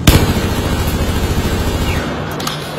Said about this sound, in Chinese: 我被敌人火力压制